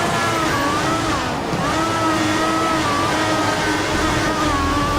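Formula 1 cars in F1 2014 on a race track, engines screaming at high revs and climbing in pitch as they accelerate, a loud, steady, continuous whine with overlapping engine tones.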